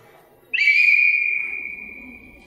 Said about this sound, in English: whistle to increase your survival rate when you are shut up in a room or burning alive